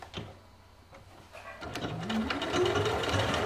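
A sewing machine running a classic straight stitch on fabric for a flared skirt, starting with faint clicks and then building into a close, steady mechanical whir without speech.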